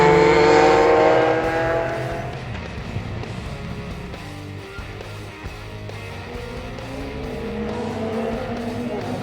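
Classic race cars heading out on track at Thruxton Circuit, engines roaring loudly close by at first, then fading into a steady distant drone of motors circling the track.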